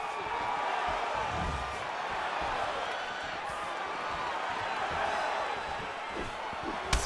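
In a simulated UFC 281 video game fight between Israel Adesanya and Alex Pereira, a large arena crowd gives a constant roaring murmur with swelling oohs. The crowd noise is steady and fairly loud, with no clear speech.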